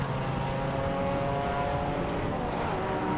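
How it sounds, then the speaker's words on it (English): An Alfa Romeo Giulietta race car pulls out of the pits in an endurance race at Silverstone, its engine giving a continuous, loud droning roar with a steady pitch and no pause. "Out of the pits comes the McMahon Alfa Romeo there,"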